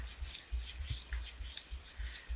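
Kitchen knife pushed edge-first along a sharpening stone from heel toward tip, a soft rhythmic grinding rasp repeating in short strokes, close and faint, with no talk.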